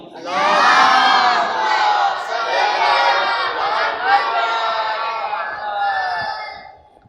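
Large crowd at a religious gathering in an imambargah chants salawat in unison after a call, a loud sustained wall of many voices lasting several seconds before fading.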